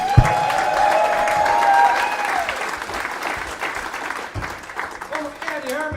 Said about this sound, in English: Please give him a big warm round of applause.